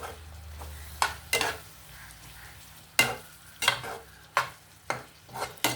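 Tomatoes fry in a pan of ridge gourd and eggplant curry, heard as a soft, steady sizzle broken by sharp, irregular scrapes and clacks of stirring, with no voices.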